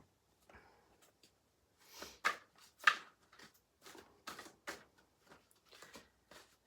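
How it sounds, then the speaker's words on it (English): A deck of cards being shuffled by hand, heard as a series of soft, quiet papery riffles and flutters in short irregular bursts, close up with no voices. "And I'm going to shuffle this deck."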